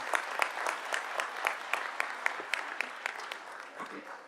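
Applause from a school board meeting audience honoring award winners, a steady dense patter of many hands clapping at moderate distance, with the occasional sharper single clap standing out.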